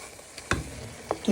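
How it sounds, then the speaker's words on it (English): A wooden spoon knocks prawns down into a simmering sauce, giving a few dull thuds and scraping knocks over a soft bubbling sizzle, close and fairly loud. "with your wooden spoon, you're going to break them or bash them down into the sauce"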